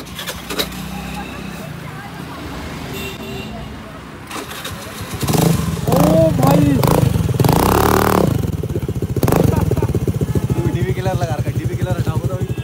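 A scooter fitted with an Akrapovic exhaust revs in Dehradun, rising from a low idle into loud, throaty bursts around the middle of the clip, with voices talking over it throughout.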